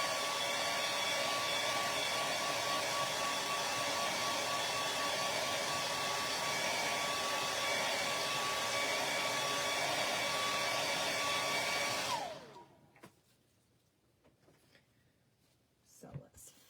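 Heat tool blowing hot air to dry chalk transfer paste on a craft project: a loud, steady, close whooshing roar with a faint whine, running unbroken for about twelve seconds before cutting off to near silence.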